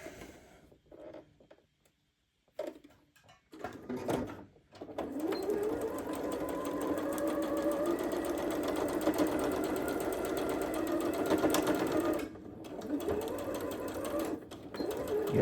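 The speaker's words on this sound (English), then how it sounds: "first I am going to sew this, and I'm going to use probably a scant 1/4 inch seam allowance" A sewing machine stitches a scant quarter-inch seam in short starts and stops, then runs in a long, steady, close whirring stretch before pausing and briefly resuming.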